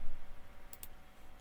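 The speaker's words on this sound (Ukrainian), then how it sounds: "Двойний клік по ній лівою кнопкою миші." Left mouse button double-clicked on a computer, two quick crisp clicks close together, faint against a steady background hiss.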